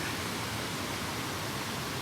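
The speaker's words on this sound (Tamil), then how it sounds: "எவ்வளோ அழகாக தண்ணி விழுதுன்னு பார்த்தீங்களா?" A waterfall near Tirunelveli, fed by Kerala monsoon rains, pours with a steady, dense, unbroken roar, loud and close, like constant broadband rushing, with no voices over it.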